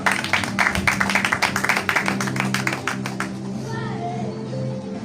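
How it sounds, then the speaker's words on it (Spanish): A church congregation breaks into brisk, dense applause, many hands clapping together for about three seconds before it fades out under a lingering voice and soft background music. "Denle un aplauso al Señor."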